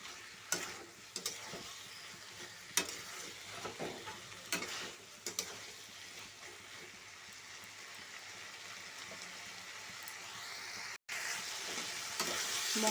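Spice masala frying in a pan for a okra curry, with a steady soft sizzle and repeated scraping, clinking strokes of a stirring spoon, fairly faint and without talk.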